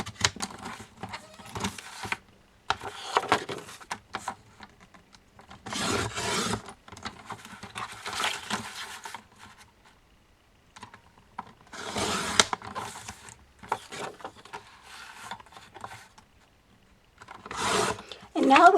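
Paper labels cut with scissors along long lines give soft, close rasping snips in several separate bursts with quiet pauses between them.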